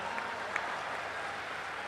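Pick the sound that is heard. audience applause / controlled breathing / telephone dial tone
audience applause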